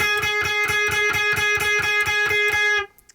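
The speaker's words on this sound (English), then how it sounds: "It's just 1 repeating note. It actually sounds really annoying when it's on its own" One guitar note is down-picked over and over in a fast, even rhythm, bright and distorted, a layered part from a song, cutting off abruptly near the end.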